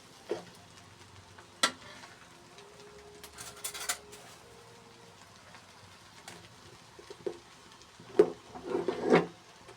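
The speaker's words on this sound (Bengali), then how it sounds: "এখন মশলাটা রান্না দিলাম একটু নাড়াচাড়া করে নিলাম" Vegetable noodles with spices are stirred in a frying pan, giving scattered scraping clicks and soft sizzling over a quiet kitchen background, with a few sharper knocks near the end.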